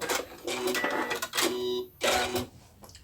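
Sewing machine stitching a seam on a small fabric hand sanitizer pouch with lining, running in three bursts separated by short pauses, the stops and restarts of back tacking at the start and end. It is close and fairly loud, with no talk.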